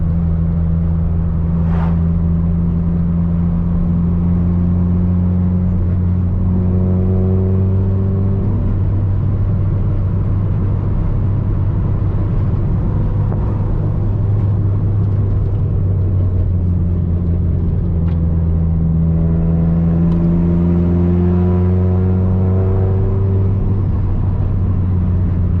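A Nissan S15 on low boost drives along a road, heard from inside as a steady loud engine drone that climbs in pitch through gears, with rev rises and drops and road rumble beneath.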